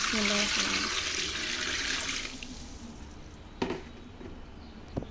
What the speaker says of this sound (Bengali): এগুলো ভালো করে সিদ্ধ হওয়ার জন্য আমি জল দিয়ে দেব